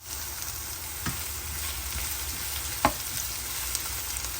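Onions sauté in a pan for ginisang kalabasa, giving a constant close sizzle with a couple of sharp clacks of a utensil against the pan.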